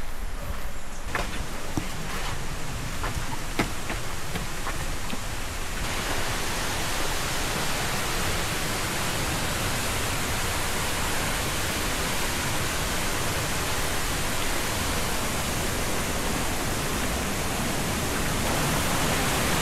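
A waterfall roars as a loud, steady, full-bodied rush of water. A few light clicks and steps come at the start, then the constant wash swells and fills everything, close by and unbroken.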